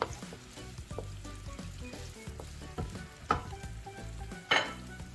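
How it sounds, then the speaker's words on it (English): Onion sautés in a hot pan, a soft continuous sizzle and crackle with occasional sharper spatters and stirring sounds, close and fairly quiet. "just let the onion just go on saute just a bit."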